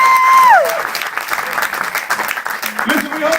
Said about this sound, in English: Round of applause for the audience.